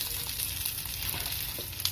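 Chicken garlic fingers frying in a pan of hot oil, giving a steady, dense sizzle and crackle throughout with a few small pops, close up and with no voices.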